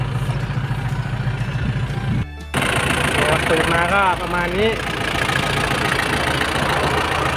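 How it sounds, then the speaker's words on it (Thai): A single-cylinder Big-M pickup truck engine idles nearby with a constant low rumble, a brief dropout, and someone speaking a few words over it. "เดี๋ยวผมจะไปรีวิวเครื่องยนต์ให้ดูนะ"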